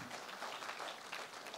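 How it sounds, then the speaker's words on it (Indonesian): A church congregation applauds during a sermon, steady dense clapping from many hands filling the room at an even level throughout. "Berikan tepuk tangan bagi Tuhan kita."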